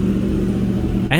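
A Yamaha R1 sport motorcycle with an aftermarket exhaust idling with a low, steady rumble that catches a sudden throttle blip at the very end, loud and close.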